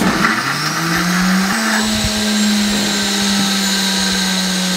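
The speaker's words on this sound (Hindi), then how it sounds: "इसको ग्राइंड कर लेंगे अच्छे तरीके से" Blender grinding browned onion and tomato paste, a loud continuous motor whine that settles into a steady pitch with a few small bumps, running alone with no talk.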